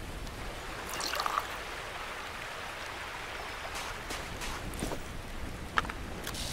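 Water collection in The Last Plague: Blight, an open-world survival game, with a steady stream-like rush and a few soft splashes and taps over about six seconds and no talking.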